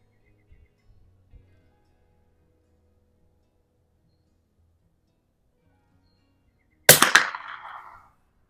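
A single sharp report from a Mossberg 46B rifle fired while plinking outdoors cracks out after a long quiet stretch, close and loud, then rings off into a short decaying echo.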